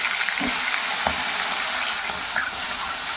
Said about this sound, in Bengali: এখানে মাছের মাথা, 2টো মাছের মাথা এই যে কেটে নিয়েছি, এগুলো এখন ভাজা করে নেব।